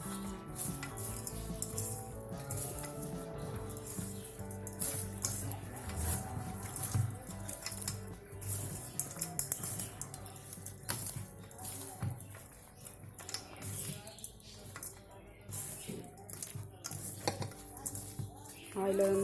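Mango pulihora (mango rice) is stirred and mixed in a pan, with steady scraping and clinking of a spoon against metal and a light sizzle running throughout, while a voice is faintly present in the background.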